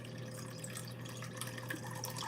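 Water pours steadily into sourdough bread dough, a faint continuous trickle over a low background hum, with no voices.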